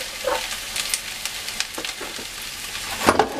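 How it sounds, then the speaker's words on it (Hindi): Garlic ginger paste fries with onions in a pan, giving a moderate crackling sizzle dotted with small pops and stirring scrapes. "इसमें 1 चम्मच भर के मैं लहसुन अदरक का पेस्ट डाल दूँगी।"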